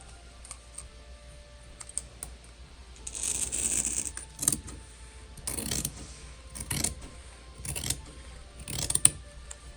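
Scissors cutting through fabric for a crossbody bag, a series of close, crisp snips and rustles coming in short bursts with brief pauses between them and no talking.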